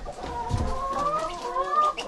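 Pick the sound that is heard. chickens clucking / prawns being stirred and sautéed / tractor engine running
chickens clucking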